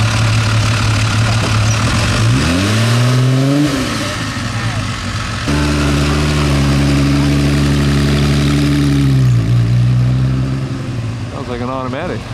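A Ferrari engine at the Mille Miglia idles loudly, then revs up in rising sweeps, drops back, and revs again in several pulls, close by with people talking over it.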